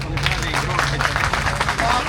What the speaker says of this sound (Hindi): उसी प्यार और उसी मोहब्बत के साथ अपने लिए तालियां बजाएं।